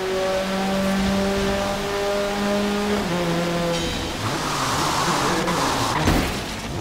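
A rally car in the Forza racing game roars close and loud with a rising engine whine that shifts pitch as it barrels into a corner, then breaks into a rougher, noisier rush of tire and road sound, with a voice talking faintly alongside.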